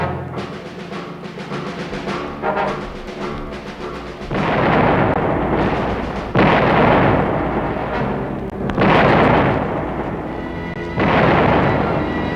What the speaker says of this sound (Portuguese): a artilharia entrou em ação